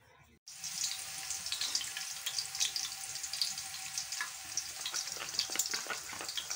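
Garlic fries in hot oil for saag, giving a steady crackling sizzle that starts abruptly after a brief quiet moment and then runs on with scattered pops at moderate loudness, without talk.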